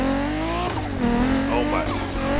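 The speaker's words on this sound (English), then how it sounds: "the turbo sound is crazy" Racing game engine from Motorfest, played on PC with a steering wheel, revving loud and continuous with a turbo whine, shifting pitch mid-run and joined by tire squeal.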